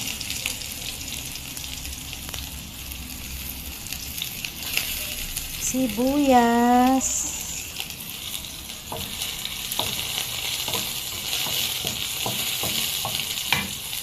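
Ginger and onion sauté in a hot pan for mussel tinola, a steady soft sizzle with scattered clicks from stirring and a brief rising tonal squeal near the middle.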